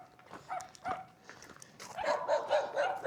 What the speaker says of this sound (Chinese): 哇，这里养的有4条狗